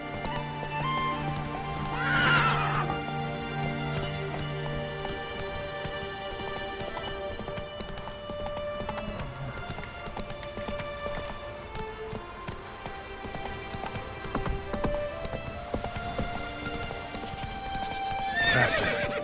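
Roach, the horse in the video game The Witcher 3, gallops with a steady, rapid drumming of hooves under game music, and whinnies and snorts break in near the start and the end.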